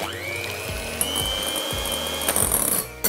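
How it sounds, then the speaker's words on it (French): An electric mixer whirs continuously as it whips egg whites with sugar for a chocolate mousse, its motor tone holding steady with a few clattering knocks and bumps against the bowl, close by and without speech. "On peut à présent rajouter la moitié du sucre dans les blancs et on va fouetter au batteur électrique."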